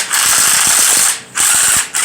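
A hand ratchet works the intake manifold bolts on a car engine, its pawl giving rapid, close clicking in two bursts separated by a brief pause.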